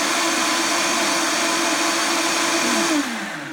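A very powerful blender whirs loudly and continuously as it mixes a hemp milk and chlorella smoothie, the motor pitch dropping slightly and winding down at the end, no speech.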